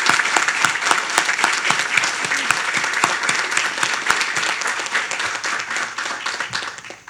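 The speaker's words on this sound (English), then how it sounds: "Let's give them a round of applause as well." An audience applauds the standing board of directors of two organizations, with steady dense clapping that holds at full strength throughout before starting to fade at the very end.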